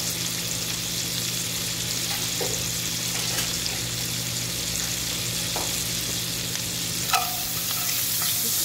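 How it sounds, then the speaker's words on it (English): Half an onion sizzling in leftover bacon grease over medium-high heat, a steady crackling fry with a few faint clinks and scrapes. "In that same bacon grease, you're going to just add a half of an onion."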